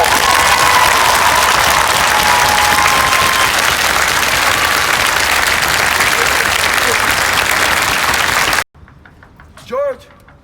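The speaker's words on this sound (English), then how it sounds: "Clap your hands right where y'all are" A large outdoor crowd at a street demonstration claps hands in a long, dense, sustained burst that cuts off abruptly, followed by a short spoken voice.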